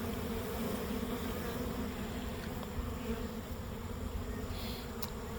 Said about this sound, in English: all these bees that are in flight are going to land somewhere